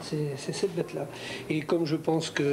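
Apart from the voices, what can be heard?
No distinct noise like a dog, phone or traffic.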